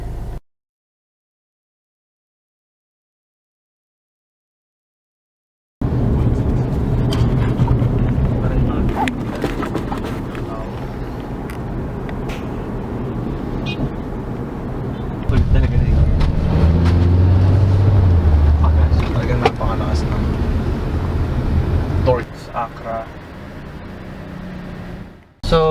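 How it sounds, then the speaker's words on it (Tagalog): A 2022 Kia Sorento SX with a 2.2 engine and automatic gearbox driving on the road. Steady engine and road rumble swell partway through, with a person talking over it. "finally driving the 2022 Kia Sorento SX"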